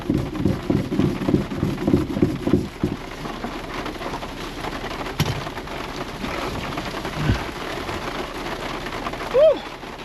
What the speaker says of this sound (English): Oh, it's raining good.